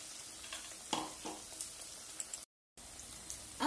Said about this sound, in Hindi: इसके लिए हम गोभी को लेके उसे बैटर में डिप करेंगे और कढ़ाई में डाल देंगे।